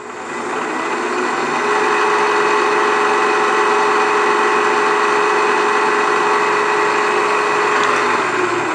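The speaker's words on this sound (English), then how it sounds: "I'm using a small spot drill." A small spot drill cuts into metal on a machine, heard as a loud, steady mechanical whine and motor hum that ramps up at the start and holds evenly throughout, with no talking.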